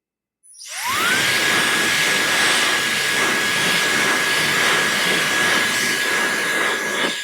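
A Mera MHDU01 hair dryer in hand dryer mode starts up and blows steadily with a loud, even whoosh and a high whine that rises and then holds constant.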